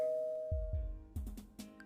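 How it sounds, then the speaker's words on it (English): A home doorbell rings, a sustained chime followed by several short, fairly faint knocks or thumps. "I hear my doorbell ringing"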